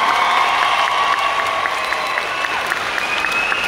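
Steady applause from a crowd at a street protest rally in Thailand, honouring donors of supplies; dense, continuous clapping with scattered cheers and whistles, loud and close throughout.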